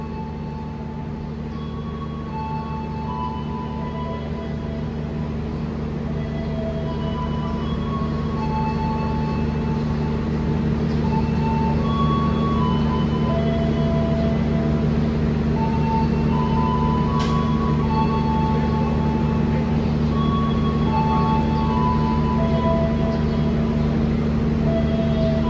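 Taksaka passenger train pulling out of Yogyakarta station, a loud sustained rumbling drone of engine and rolling wagons that builds slightly and holds steady, heard up close from on board or beside the tracks.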